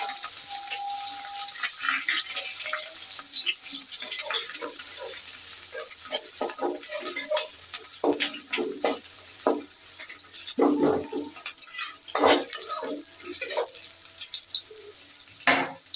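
Raw onion added to oil in a pan for a Bengali winter vegetable bhaji with cauliflower, potato and eggplant, sizzling and crackling steadily near the mic with scattered stirring clatters throughout.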